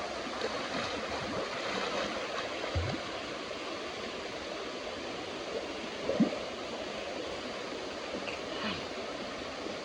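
A forest waterfall in Kanyakumari rushes in a quiet, steady hiss with no people around, with a couple of faint soft knocks along the way.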